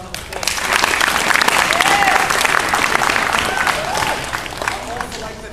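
A crowd at a wrestling event applauds loudly and continuously, with cheers and whistles rising over the clapping and a few voices calling out.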